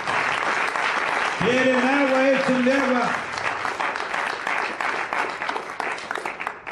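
A church congregation breaks into applause for the Lord during a sermon, the clapping swelling under and after a preacher's raised voice and then continuing as a busy, uneven patter.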